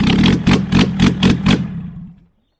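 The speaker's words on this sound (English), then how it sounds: "Turn the ignition back on, just see if it'll start again." A flood-affected Toyota Land Cruiser 100 Series with a 1HD-FTE diesel engine cranks in a rhythmic series of about seven loud, close chugs, then falls quiet without clearly catching.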